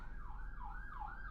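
A wailing siren rises and falls repeatedly in a steady cycle, sounding somewhat distant and muffled, with no voices.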